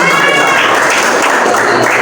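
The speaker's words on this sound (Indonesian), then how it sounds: "ini kasih tepuk tangan." Applause from a class of students during a teacher performance assessment, steady and fairly loud throughout, with some voices mixed in.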